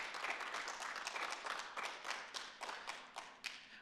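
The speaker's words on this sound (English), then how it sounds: "Let's give them all a big round of applause." A dense, steady round of applause fills a civic State of the City gathering in Gaithersburg, many hands clapping together at close range for the whole stretch with no talk over it.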